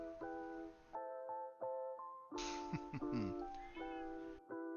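A pet cat meows repeatedly indoors, a string of clear, drawn-out meows close by, separated by short pauses, with no talking over them.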